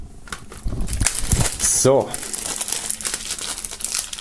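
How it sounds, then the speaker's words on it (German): Plastic shrink wrap crinkles and tears as it is stripped from a boxed album, a short burst of crackling rustle with a brief squeak, while someone speaks German over it. "werden wir dieses Mal aus der Folie befreien"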